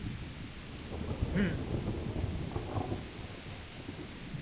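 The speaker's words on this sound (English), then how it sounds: "Also, we're weirdly dry considering how much it's raining." Steady rainfall and a low rolling rumble of thunder in the medieval game Kingdom Come: Deliverance, the storm heard alone without voices.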